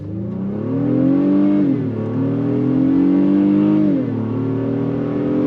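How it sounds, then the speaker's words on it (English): A 2023 Honda Pilot Trailsport in sport mode accelerates hard through its 10-speed automatic, engine droning loud and close with rising pitch and two clear upshift dips, no voices. "I'm gonna go on throttle real quick since nobody's behind us"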